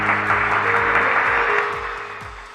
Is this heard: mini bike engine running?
no